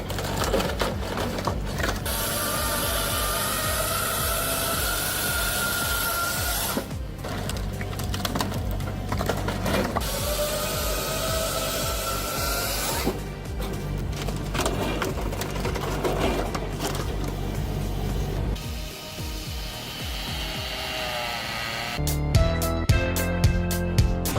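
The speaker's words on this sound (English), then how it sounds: "hydraulic powerhouse for firewood processing. Designed for maximum output, it handles logs with smooth, controlled hydraulic force" A Czech-built hydraulic firewood processor works logs with a loud, continuous mechanical drone and hum, broken by clattering knocks and shifts in tone, ending in a rapid rattling.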